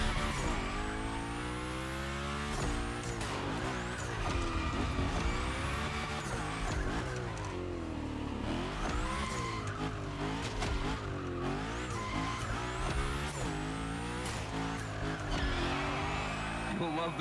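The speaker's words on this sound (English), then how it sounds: "We're focusing on Gymkhana essentials, big slides, and precision." Engine revving and tires squealing as a car slides through Gymkhana drifts in the racing video game The Crew Motorfest, with shifting engine pitch and continuous loud screeching throughout, backed by game music.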